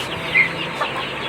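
Hens clucking in a rural Philippine yard, a short burst of close clucks over a soft outdoor background, no voices.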